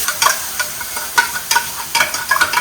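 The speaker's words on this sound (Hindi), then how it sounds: "हम लोग इसको बस कढ़ाई गरम करेंगे और इसमें डाल दीजिए, कम आंच में रहने दीजिए।" Pure desi ghee warming in a kadhai over a low flame, a soft steady sizzle broken by repeated scraping strokes of a spoon against the pan, close and fairly loud with no voices.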